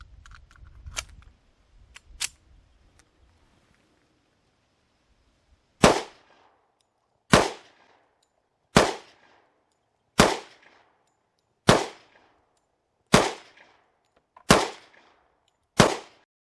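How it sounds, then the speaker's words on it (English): Ruger SR1911 pistol in 10mm firing 180 grain rounds at a range: eight sharp, loud single shots spaced about one and a half seconds apart, each followed by brief silence, after a few quieter handling clicks. "We're gonna break it in with some 180 grain arms core 10mm rounds. First 8 rounds down range out of the Ruger."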